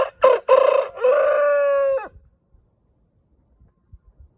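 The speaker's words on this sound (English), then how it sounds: "Our chickens." A rooster kept on a home property with several chicken breeds crows loudly and close by, a few choppy opening notes running into one long drawn-out call, followed by near silence with faint scattered sounds.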